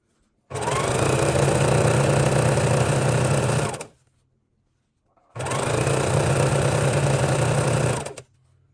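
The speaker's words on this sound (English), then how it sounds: "we're just going to go ahead and sew down these strips" Sewing machine stitching down quilt fabric strips in two long, even runs of loud motor whir, separated by a short pause of near silence.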